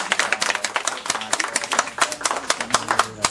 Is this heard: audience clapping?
yes